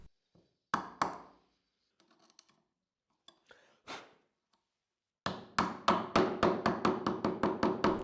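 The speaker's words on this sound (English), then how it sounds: "I traced the shape of the nut with my marking knife and chiseled the recess for it." Chiseling a recess for a nut in wood brings a few sharp separate strikes with quiet gaps, then a fast, even run of loud, close knocks.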